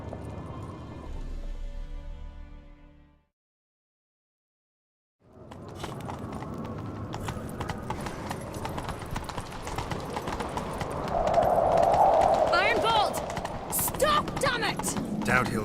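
Horse hooves clip-clopping at a quick, rhythmic pace in the video game The Witcher 3, preceded by a brief voice and silence, growing louder and busier with clatter toward the end.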